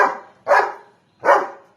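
A dog barks three times at close range, each bark short and sharp with a brief gap between them.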